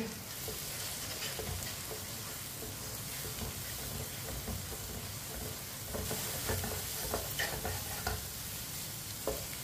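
Beaten eggs being stirred into onion and tomato in a hot pan, a continuous sizzle and fry with scraping spoon strokes throughout, close and fairly quiet.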